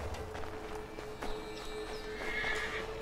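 A horse whinnies loudly in the game Assassin's Creed III while hooves clip-clop along beneath it, close and clear.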